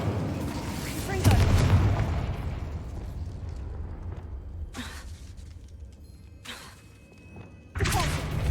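Confringo fire-blast spell from the game Hogwarts Legacy, heard as a loud booming burst at the start followed by crackling rumble, with further bright bursts later, over a steady background score.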